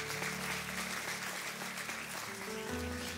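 A church congregation applauding during a service, a soft, continuous wash of many hands clapping at some distance, with sustained musical tones running underneath.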